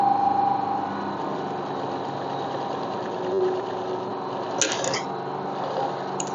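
A sewing machine stitches a skirt band in a steady, continuous mechanical hum that stays moderately close, with a couple of sharp clicks near the end.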